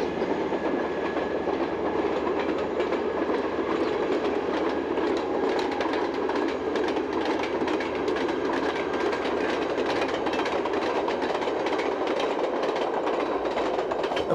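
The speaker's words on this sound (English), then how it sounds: "the majority of services throughout the island are in the hands of these ALN 668 railcars" A Fiat ALN 668 diesel railcar runs along an island railway line, its steady rumble and rhythmic clickety-clack of wheels on rail joints continuous and loud throughout, with no voices.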